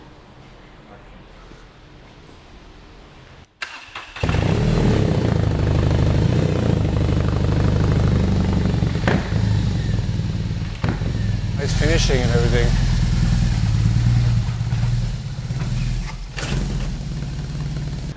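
A BMW boxer motorcycle engine with a prototype exhaust fires up after a quiet moment with brief talk. It settles into a loud, deep, close idle with a throttle blip partway through, and a short remark comes over the running engine.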